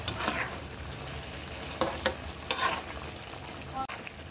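Mixed vegetables and jackfruit seeds fry in a pan for a vegetarian curry, giving a steady close sizzle with a few sharper bursts of stirring partway through.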